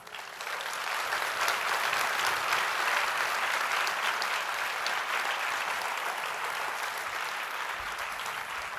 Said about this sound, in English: Come on, a bigger round of applause.